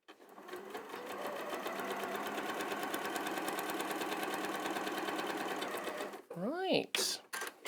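A sewing machine runs steadily for about six seconds, stitching fabric along a marked line with a fast, even mechanical whir, then stops; a short rising whistle-like squeak and some handling noise follow at the end.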